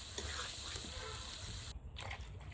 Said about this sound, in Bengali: এখন ঝোলের জল দিই।